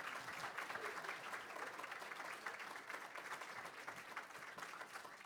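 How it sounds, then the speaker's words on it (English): A crowd at a school board meeting applauds student athletes, a faint, even, continuous patter of many clapping hands heard from a distance. "Now give them a round of applause."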